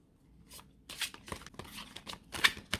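Quick papery riffling and flicking of a slippery Native American tarot deck being shuffled by hand, a run of close, uneven card rustles and snaps.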